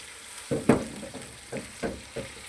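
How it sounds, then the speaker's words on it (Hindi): Beef and chicken kofta frying gently in a pan: a soft background sizzle broken by several short spattering bursts and rustles as the pan is moved about. "अपने कपड़े की मदद से इनको ऐसे ऐसे फ्राई करना, चम्मच नहीं हिलाना आपने।"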